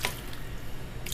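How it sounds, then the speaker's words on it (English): Water trickles and drips into a cooking pot holding a red mouth grouper, adding liquid to the fish. A soft, steady pour is heard alone at low volume, with brief brighter splashes at the start and end. "Just add a little bit more water."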